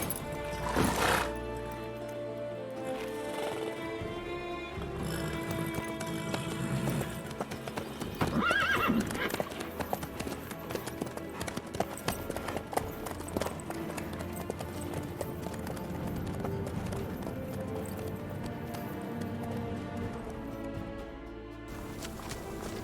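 Horse hooves clip-clop at a gallop in The Witcher 3, with whinnies and neighs, steady and close throughout over a dense musical score.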